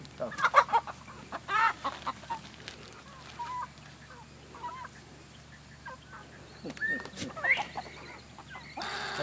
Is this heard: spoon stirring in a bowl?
no